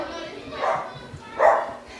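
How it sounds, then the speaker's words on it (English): A dog barks twice from nearby, two short separated woofs at a party, with a voice talking underneath. "and I know y'all probably hear Sparky barking in the background."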